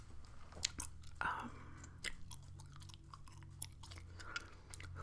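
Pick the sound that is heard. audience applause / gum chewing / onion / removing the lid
gum chewing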